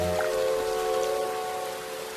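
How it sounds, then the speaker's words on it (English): Steady rain falls across a stormy night, a continuous even wash of drops with a faint tonal hum running underneath and no voices. "The rain was wet."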